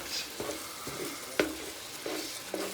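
Hamburger meat and onions fry in a pan, a quiet steady sizzle broken by several spaced scraping strokes of a spatula and one sharper clank, close, with no speech.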